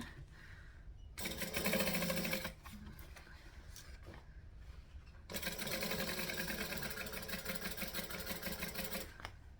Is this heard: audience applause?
no